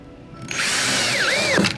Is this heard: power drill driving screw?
yes